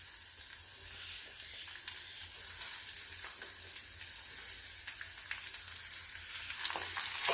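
Sliced onions fry with garlic in a pan for okra curry, a steady close crackling sizzle that carries on throughout with scattered sharper pops.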